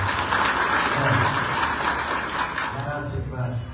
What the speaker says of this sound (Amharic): ለራሳችሁ አጨብጭቡ እስቲ።